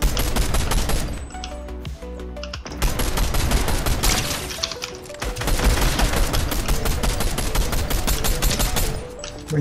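Gunfire in Fortnite Ranked Reload: rapid bursts and steady streams of weapon shots follow one another almost without pause, loud and close, with brief lulls between volleys.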